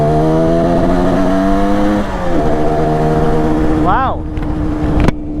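A long-abandoned Yamaha RD350 motorcycle, idle for about ten years, runs loudly at a steady idle, then gives a quick blip of the throttle, with a short exclaimed word partway through.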